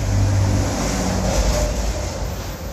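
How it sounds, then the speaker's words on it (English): A truck passes along a street in Merida, Mexico, a loud, close engine rumble that holds steady for a few seconds and then eases slightly as it moves on. Nobody speaks. "truck."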